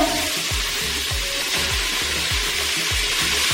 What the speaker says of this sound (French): Là, il est écrit colorer les lardons et les oignons.